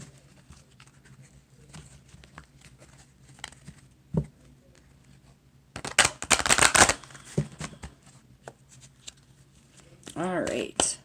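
Tarot-style oracle cards being shuffled in a couple of quick riffling bursts, close and crisp, with quieter handling sounds between them.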